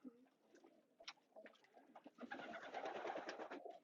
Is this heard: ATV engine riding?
no